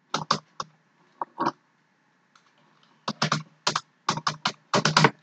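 Quiet clicking on a computer keyboard, a few short bursts of keystrokes, a pause, then a quicker run of taps, close and fairly soft.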